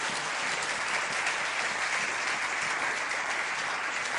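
A church congregation claps and cheers in praise of the Lord, a dense, sustained wash of applause that stays loud and steady throughout, with no individual voices standing out.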